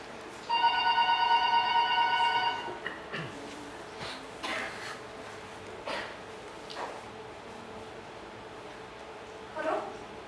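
A telephone rings in a single electronic burst lasting about two seconds, loud and close, followed by scattered talking.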